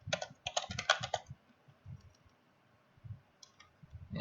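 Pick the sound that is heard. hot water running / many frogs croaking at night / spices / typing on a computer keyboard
typing on a computer keyboard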